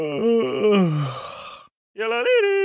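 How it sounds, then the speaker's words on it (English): A drawn-out voiced yawn in a kids' alphabet app, a rising then falling groaning sigh, a short pause, then another stretched vocal yawn sound, close and clear. "Yawn."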